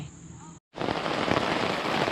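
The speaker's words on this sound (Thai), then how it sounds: "ฝนตกหนักเลย" Heavy rain pours down on a campsite in a steady, loud broadband rush, starting after a brief moment of silence and continuing without pause.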